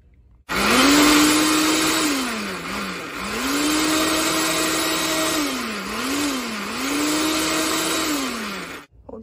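A kitchen blender runs close and loud, whirring milk and banana with a motor pitch that rises, dips and climbs again several times before it stops abruptly.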